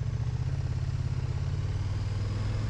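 Engine of a 2021 KTM 1290 Super Duke R motorcycle, a deep steady rumbling throb held close and loud for the whole stretch, with a faint mechanical clatter over the low pulse and no talk.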